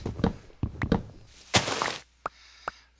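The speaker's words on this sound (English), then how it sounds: "Now let's go about the business of cutting down trees." Trees being chopped down in the video game Minecraft: a series of dull wooden thunks in uneven rhythm, a brief louder crackling burst, then two isolated soft knocks.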